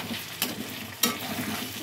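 Chicken pieces fry in a pan with chili powder, giving a dense close sizzle broken by two quick scraping stirs.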